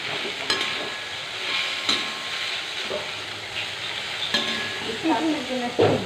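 Potatoes dropped into a pan of frying Maggi noodles, with a steady sizzle and hiss, a few sharp clatters of stirring, and a louder burst of frying near the end.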